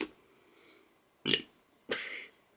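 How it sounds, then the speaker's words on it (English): Two short, close burps in quick succession after a quiet moment, the second slightly longer and throatier. "Did not mean to burp, but it happened."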